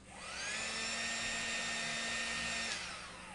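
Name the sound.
toy bug vacuum running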